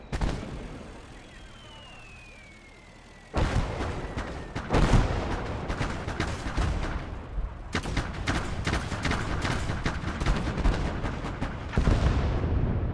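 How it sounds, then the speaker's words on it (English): Battlefield gunfire and explosions in a Battle of Stalingrad video game, a quiet stretch giving way at about three seconds to loud, dense, continuous bursts of shots and booms with sharp peaks throughout. "That was a nice explosion."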